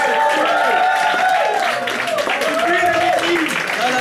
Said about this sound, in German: an der Stelle nochmal einen riesen Applaus und unseren Support hier heute